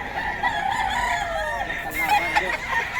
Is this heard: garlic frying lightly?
no